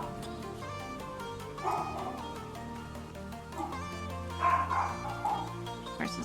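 A dog yips and barks outdoors at a distance, heard in a few short bursts over a steady bed of electronic game music.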